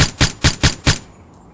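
Five quick, loud gunshots from the video game One Armed Robber ring out in an even rapid burst, like automatic fire, then stop abruptly into near silence, with no talking over them.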